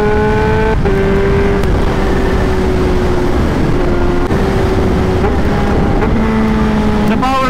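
A 2021 Kawasaki ZH2 motorcycle engine revs and shifts while riding in wet weather, its loud tone rising and dropping between gear changes over heavy wind rush.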